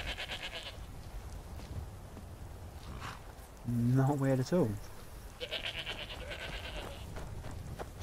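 Two goats bleating in the video game Skyrim, a short wavering bleat in the middle rising over ambient game noise, with someone talking briefly before it.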